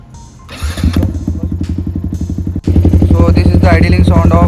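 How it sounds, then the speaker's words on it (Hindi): Yamaha R15 V4 motorcycle fitted with an SC Project full-system free-flow exhaust, idling with a loud, close, lumpy pulsing burble that jumps louder partway through, with a voice talking over it. "So this is the idling sound of SC Project exhaust free flow in R15V4."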